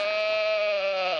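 A man on a live sports radio show imitates a goat with a single sustained, nasal bleat, loud and close, lasting just over a second before trailing off.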